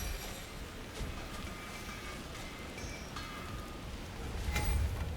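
Stormy rain in the video game God of War Ragnarok, a steady hissing downpour throughout with a louder low rumble swelling near the end, no voices.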